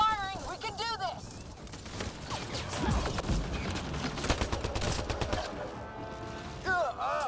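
Gunfire in the Mass Effect Andromeda video game, a dense run of rapid shots and crashing impacts, loud and continuous, with other game sounds and chatter woven in.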